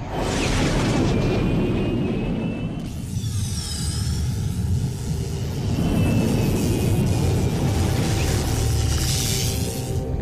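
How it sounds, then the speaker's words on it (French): An explosion in the animated series Galactik Football: a prolonged, rumbling blast with a roaring, whooshing tail fills the air continuously, loud and close, with sweeping high tones layered over it. "Et éloignons-nous de l'explosion."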